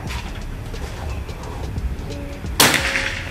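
A PCP air rifle, a Predator or Marauder with folding stock, fires a single sharp crack partway through, with a quiet outdoor background of faint birdsong before it.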